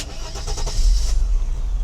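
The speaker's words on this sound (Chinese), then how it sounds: "我们再来关掉引擎，重新启动" A Mercedes-Benz W126 300SEL, repaired after a faulty fuel distributor, cranks with a few quick pulses and then catches into a loud, steady low idle close by.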